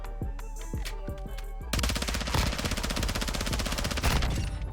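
Machine gun fire in Modern Warfare 2: a few separate shots, then a long, loud, rapid burst of automatic fire, steady and close, with no talking.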